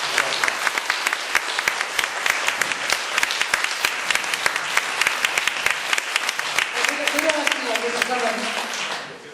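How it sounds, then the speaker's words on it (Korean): An audience at a talk show marking a book series completion claps in sharp, dense bursts for several seconds, then a voice starts speaking over the dwindling applause. "자, 박수 한번 부탁드리겠습니다."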